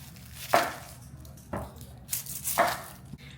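A big onion for gumbo is chopped on a cutting board, three crisp knife strokes spaced about a second apart, close and distinct with quiet pauses between.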